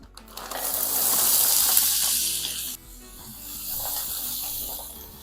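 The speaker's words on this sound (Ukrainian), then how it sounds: "на якій смажила фрикадельки, додаю олію, додаю овочеву суміш, У мене мексиканська." Oil and a Mexican vegetable mix sizzling loudly in a frying pan previously used for meatballs; a steady hiss that briefly drops around the middle as the vegetables go in, then continues, with no talking.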